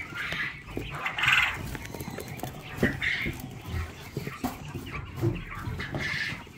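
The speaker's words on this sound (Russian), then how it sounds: "Перепелка клацает, клюет экран" Quail clacking and pecking at a screen among farm livestock, close, repeated sharp taps and clucking calls in short bursts, with other animal noise around.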